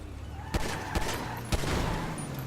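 Video game gunfire as a player shoots an enemy: three sharp, separate shots over a low, steady game background, moderately loud with no talking.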